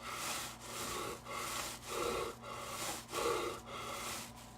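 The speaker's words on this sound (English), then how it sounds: "I took an actual inhale there." Deep inhales are drawn through a smoke-filled breathing device: a series of about six rasping, hollow breaths in a steady rhythm, close and fairly quiet, without speech.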